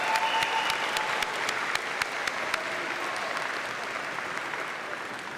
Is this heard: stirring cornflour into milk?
no